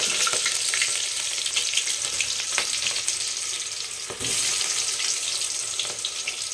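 Onions and garlic frying in hot oil for chicken fry, a dense continuous sizzle heard up close and loud, with a few spatters and stirring knocks and no talking.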